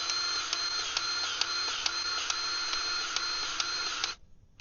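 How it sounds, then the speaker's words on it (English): Steady mechanical whine with regular clicks, a grease gun pumping grease into a fitting on a Caterpillar 299D2 skid steer, close and continuous for about four seconds before stopping abruptly. "I got 20 pumps in that one"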